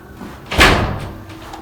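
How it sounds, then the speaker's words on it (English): A single loud door slam thuds shut nearby, preceded by a brief swing and fading into quiet room tone. "Make sure the door's closed."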